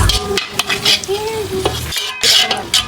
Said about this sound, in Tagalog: Sa parehong kawali at mantika, naglagay ako ng sibuyas at bawang la onion